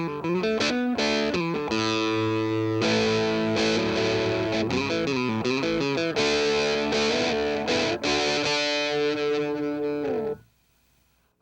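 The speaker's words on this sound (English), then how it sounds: "kind of a distortion thing that brings out the natural sound of the guitar" An electric guitar plays through an Electro-Harmonix Metal Muff distortion pedal with Top Boost, thick sustained chords and riffs with a saturated, buzzy tone, ringing out before fading to near silence.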